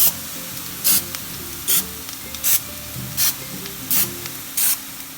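Oil sprays over aloo tikkis frying in a pan in six regular short bursts, close and loud, above a steady low sizzle, with no voices.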